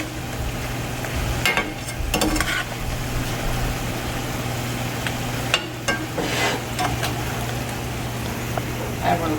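Lobster sizzles steadily in a pan of coconut sauce, a continuous close frying hiss with occasional scrapes and knocks as the lobster is turned.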